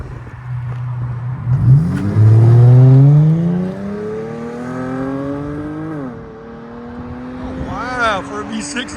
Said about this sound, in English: Dodge Charger all-wheel drive V6 with Flow 409 mufflers